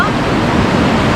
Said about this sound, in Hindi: पानी के बहने की आवाज़ सुनाई दे रही है और कुछ भी सुनाई नहीं दे रहा है।